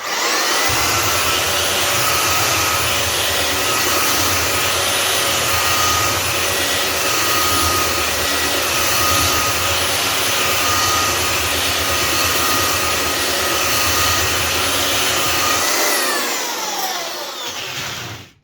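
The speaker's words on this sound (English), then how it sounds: "So we're not applying too much pressure, just letting the belt sander do the work." A belt sander runs over timber with light pressure. It gives a loud, continuous whining roar that holds steady for most of the stretch, then winds down and cuts off near the end.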